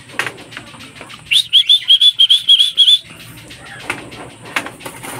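Racing pigeons coming back to the loft after a 296 km release from Vigan give a run of short, bright chirps in a quick, even rhythm for about two seconds. Faint wing flutters and soft background noise fill the gaps, and a person speaks quietly nearby.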